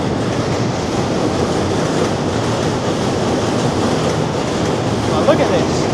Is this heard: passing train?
yes